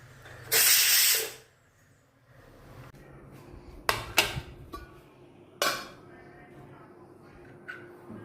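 A loud, close burst of hissing steam escapes a pressure cooker, switched off after whistling while cooking tapioca, for about a second, followed by metal clinks and clatter of pots.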